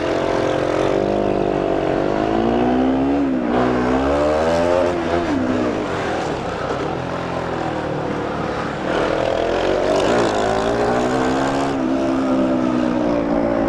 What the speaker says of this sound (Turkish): Egzoza susturucuyu taktığımız halde bağırıyor ya.